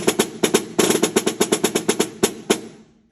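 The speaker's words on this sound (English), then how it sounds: "These are snare drums." Snare drums for school band percussion, struck in a loud, crisp run of sharp cracks with irregular rhythm and brief rolls, each hit ringing with rattling snares, played alone.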